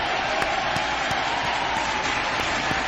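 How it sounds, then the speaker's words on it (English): Studio applause from a small group welcoming a guest on a talk show, a steady wash of clapping with a few sharper claps standing out, fairly close and continuous. "Lisa's applauding."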